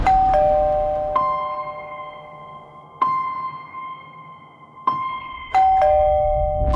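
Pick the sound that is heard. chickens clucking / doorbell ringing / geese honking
doorbell ringing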